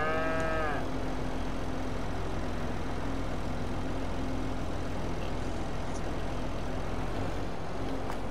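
A cow in the Farming Simulator 22 dairy game gives one clear, fairly close moo at the start, then a steady engine-like rumble carries on without talk.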